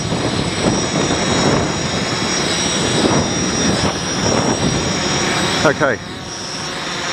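Two small drones, a Mini X and a Naza Lite, hover outdoors in strong wind, their steady propeller whine and gusting wind roar filling the whole stretch, with a brief spoken word near the end.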